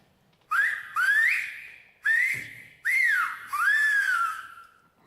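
Tenerife whistled language performed by an elderly man: five loud, close, sliding whistled phrases with rising and falling pitch, separated by short pauses.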